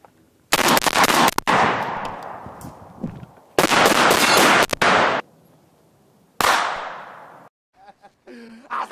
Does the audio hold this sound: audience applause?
no